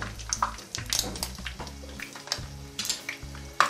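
Paneer cubes frying in hot oil for paneer methi malai, a steady close crackling sizzle with bursts of bubbling and pan clatter throughout.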